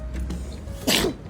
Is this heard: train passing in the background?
no